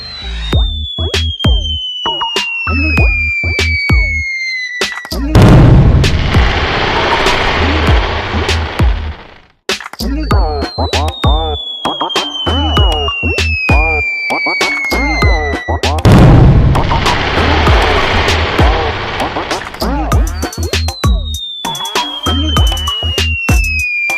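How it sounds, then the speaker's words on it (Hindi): Launch pops with whistling tones come in repeated bursts from a 9-shot sky shot firework at Diwali, followed by dense crackling sequences. The pattern repeats twice, loud and close. "तभी सोन एक 9 शॉट्स वाला स्काई शॉट जलाता है।"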